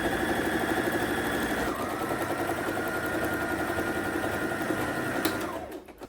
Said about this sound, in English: I need to stitch this down.